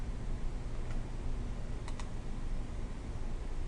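Quick computer mouse clicks, a couple of crisp ticks over a steady hiss of background noise, close and brief with no talk.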